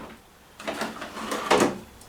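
A bottom drawer slides shut, a short rolling scrape followed by a firmer bump near the end, close by with no talking.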